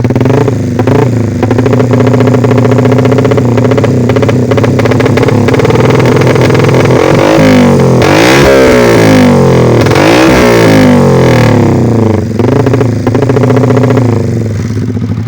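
A motorcycle that has just crashed, still running its 57 engine block, roars very loud and close with a continuous buzzy engine note. The throttle is blipped into rising and falling revs twice near the middle.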